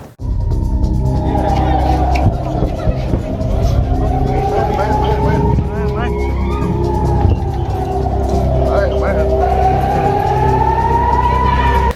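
An air raid warning siren in Tel Aviv wails, its pitch slowly rising and falling in long sweeps, loud and continuous, with traffic noise and a voice beneath it.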